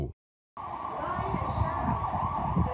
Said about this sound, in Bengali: বিকট শব্দে বিস্ফোরণ, এরপরই বেজে ওঠে সতর্কতা সাইরেন।